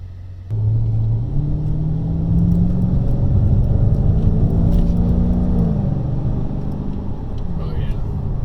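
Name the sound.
V8 muscle car accelerating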